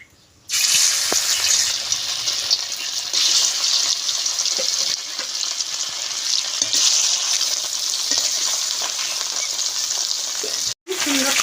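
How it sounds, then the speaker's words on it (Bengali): Fish sizzling loudly in hot mustard oil for a fish curry with shola kochu, a steady close, bright crackle that starts abruptly and runs throughout, with a brief cutoff near the end. "সর্ষের তেল দিয়ে দেব। তেলটা এসে মাছটা দিয়ে দেব।"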